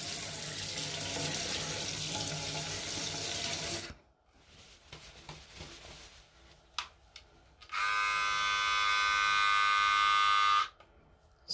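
A running sink tap gushes steadily for about four seconds, followed by quiet handling and clicks, then water-resistant electric hair clippers buzz loudly and evenly for roughly three seconds before switching off.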